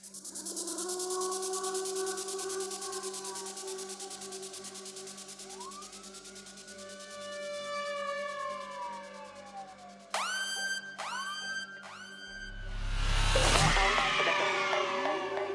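Rising and falling siren wails and sweeping synth tones layered over a steady UK garage beat, ending in a loud noisy swell.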